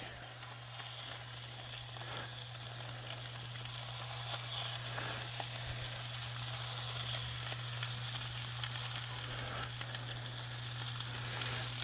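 Shrimp frying in a Field Company cast iron pan, a steady dense sizzle and crackle that stays close and fairly loud throughout, with a constant low hum underneath and no voices.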